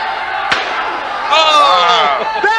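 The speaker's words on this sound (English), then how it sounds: "Watch this chair shot" A steel chair shot lands in a 1993 Smoky Mountain pro wrestling match, a single sharp slam followed by a roaring arena crowd that swells and sustains with shouts.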